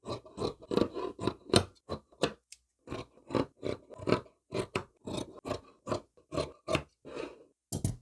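Scissors cut through coat fabric in a quick, uneven run of crisp snips close by, with short pauses between bursts and no voices.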